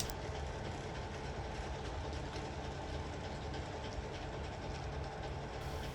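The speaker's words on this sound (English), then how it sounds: "an express from Paddington arrives at the down platform" A model express train rumbles and rattles steadily along the track into a station platform on a circa-1963 Dawlish Warren layout, a continuous rolling clatter at moderate distance with no voices.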